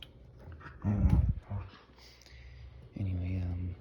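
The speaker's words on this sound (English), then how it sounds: "These dogs, they like to fight right next to me." Several dogs snarl and growl at each other in short scuffling bursts close by, with whimpering in between, while someone talks softly in a quiet room.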